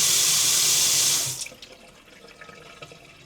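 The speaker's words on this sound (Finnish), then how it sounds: "Vettä tulee." Tap water gushes loudly for about a second and a half, then cuts off abruptly, leaving faint drips and quiet plumbing sounds in a pipe that seems to hold air.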